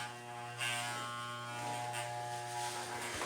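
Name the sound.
electric clippers shaving hair off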